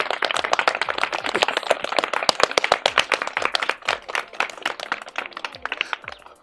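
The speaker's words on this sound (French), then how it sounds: "Applaudissez." Loose rhythmic clapping from a small group welcoming an inspector at a public school, sharp distinct claps in an uneven, fairly fast pattern, close and loud, thinning out toward the end.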